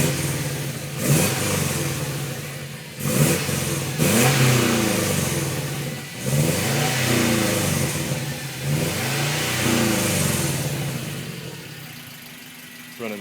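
A 1998 Subaru Impreza 2.5 RS with Borla replica headers, stock cats and a full CNT catback exhaust, blipped repeatedly from idle in sharp, loud revs that rise and fall several times before settling back down.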